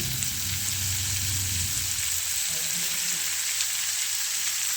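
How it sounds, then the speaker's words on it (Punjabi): Sangri beans and potatoes frying in a pan give a steady, close sizzle throughout, with faint stirring clinks and a soft low hum in the background. "ਹੁਣ ਆਪਾਂ ਸੁੰਗਰੇ ਐਡ ਕਰ ਦਾਂਗੇ ਇੱਥੇ"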